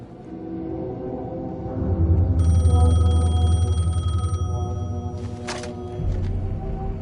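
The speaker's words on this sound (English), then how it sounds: "The payphone was ringing." A payphone rings in the video game Alan Wake 2, a bright repeating electronic bell that sounds in bursts over a low, rumbling ambient drone.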